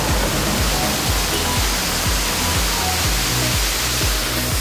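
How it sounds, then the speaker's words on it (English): A waterfall roars as a broad, constant rush of falling water, loud and close, with no voices over it. "he's like, waterfall, waterfall, and this is what he managed to see."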